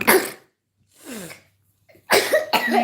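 A person with a slight morning cough coughs in several short, harsh bursts separated by pauses and breathing, close to the listener.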